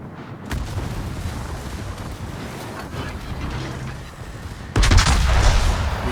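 Warship secondary guns fire in World of Warships, a dense rumbling barrage of booms that swells into a louder burst near the end, with no talk over it.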